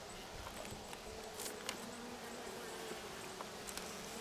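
Bees buzzing around an open beehive on a homestead, a faint continuous hum of many insects with an occasional louder bee passing close by, no talking.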